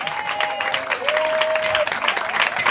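Congregation clapping and cheering to acclaim Jesus, a dense continuous round of applause with a sustained sung tone running through it.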